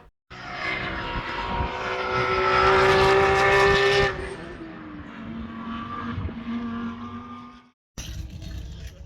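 A race car on a circuit during a guided rollout lap for a National A racing license: the engine revs up to a loud, rising whine, then drops to a lower steady drone before cutting off briefly.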